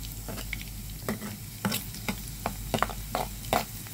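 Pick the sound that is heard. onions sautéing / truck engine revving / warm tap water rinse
onions sautéing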